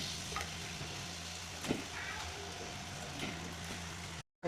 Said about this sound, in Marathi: आपल्याला आता हे चिकनचे पीस जे आहेत ते टाकून घ्यायचे